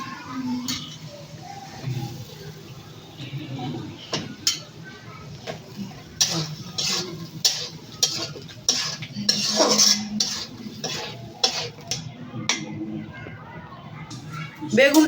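Eggplant pieces stirred and sautéed with spices in a pan, with frequent close metal utensil clinks and scrapes against the pan, and children's voices in the background.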